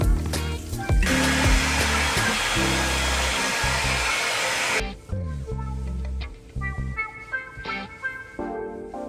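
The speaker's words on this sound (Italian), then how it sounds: "poi dopo l'asciugheremo con il phon" A hair dryer blows with a loud, steady whoosh for several seconds while drying a freshly sanded Mini 4WD model car body, then cuts off, leaving quieter background sounds and some music-like tones.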